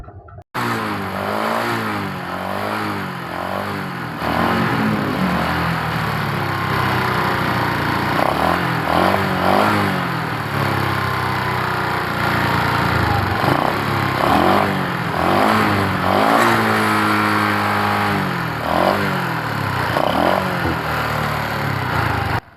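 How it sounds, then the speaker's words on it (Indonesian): A Honda Blade motorcycle with a fault that pushes oil out of its breather hose under throttle is started and idles, then revs repeatedly in loud, close, rising and falling bursts, with no talk. "coba kita nyalakan mesinnya terlebih dahulu agar kita lebih memahami apa permasalahan motor ini"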